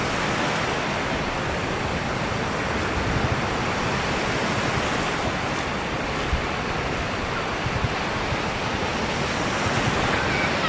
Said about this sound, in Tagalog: Grabe oh, ganda ng alon oh.